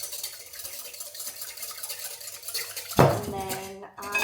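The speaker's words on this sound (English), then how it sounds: "you literally need to whisk an egg and do that" An egg is whisked in a bowl while preparing a chicken pie, heard as a soft scraping stir and then a sudden sharp clink of metal against the dish with a short ringing tail. The sound is close and moderately quiet.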